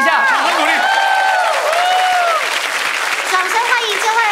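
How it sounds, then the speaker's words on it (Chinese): A talk-show studio audience claps in a sustained, full round of applause, with a voice speaking loudly over it. "掌声鼓励一下， 掌声鼓励，"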